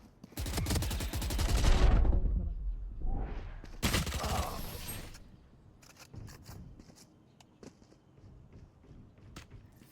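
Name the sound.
gunfire in a video game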